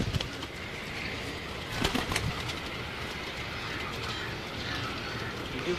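Blue pigeons coo softly and repeatedly close by, with a brief flutter of wings partway through over a steady background hum.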